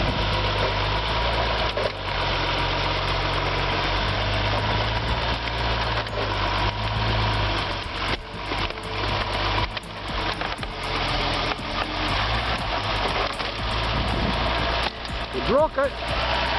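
An IH806 tractor engine pulling out of thick mud, a steady low rumbling idle-like drone that stays loud throughout with small surges and some vibration.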